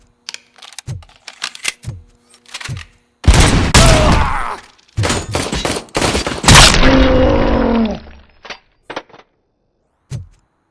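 Gunfire in the RoboCop: Rogue City video game: sharp single shots at first, then loud sustained bursts of rapid fire, with a ringing metallic tail and brief pauses between volleys.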